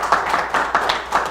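A short burst of applause from a TV talk show audience, several claps landing in quick uneven rhythm, moderately loud and close.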